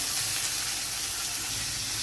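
Chopped vegetables hit hot oil for a savoury semiya evening snack, giving a loud, steady, broad sizzle that runs unbroken from start to finish.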